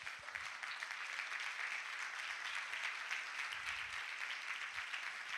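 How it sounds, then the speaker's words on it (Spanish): Congregation applauding during a Spanish-language church sermon, a sustained, even wash of clapping from a crowd heard at some distance. "Dele un aplauso a Dios."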